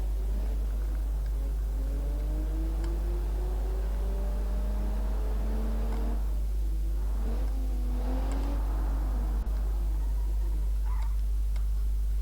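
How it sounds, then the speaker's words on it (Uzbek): Simulated car engine in the BeamNG driving game accelerating, its tone climbing in repeated rising sweeps as the car gathers speed, heard steadily and fairly close with no talking. "Yana J tugmasini bosamiz va mashinani harakatga keltiramiz."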